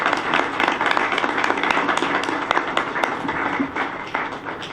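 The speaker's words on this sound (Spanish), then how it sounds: "Un gran aplauso para el panel y muchas gracias a ustedes." Clapping from a seated audience applauding a discussion panel, a steady dense patter of hands at moderate distance with no talk over it.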